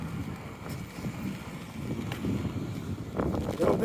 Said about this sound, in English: A little bit more wind right here